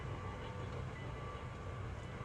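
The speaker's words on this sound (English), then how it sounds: "there goes that silly train." A train rolls past in Gatlinburg as a continuous low rumble with broadband noise, steady and fairly close throughout.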